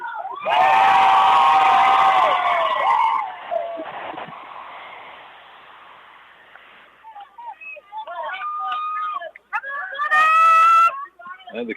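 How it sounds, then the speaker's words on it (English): Crowd of Kenedy fans cheering and shouting at a high school baseball game against Flatonia, a loud sustained roar that fades, followed by scattered yells and a renewed burst of high-pitched cheering near the end. "And the Kenedy crowd is awake, that's for sure now, since they got a lead."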